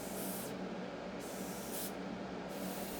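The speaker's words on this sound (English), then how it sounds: "letting the airbrush hit it from underneath" An airbrush sprays paint onto a 3D-printed figurine in steady hissing bursts, two longer passes broken by brief pauses, close and unaccompanied by talk.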